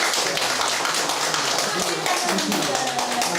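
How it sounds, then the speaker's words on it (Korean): An audience in a lecture hall applauds to welcome a Catholic priest giving a talk on Christianity, with steady clapping throughout and a voice speaking over it. "박수 부탁드립니다"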